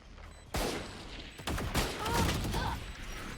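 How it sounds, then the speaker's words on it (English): A swarm grenade in the Valorant video game goes off with a sudden burst, then a second sharper blast, followed by crackling popping detonations that carry on over a quiet background. "Swarm grenade out."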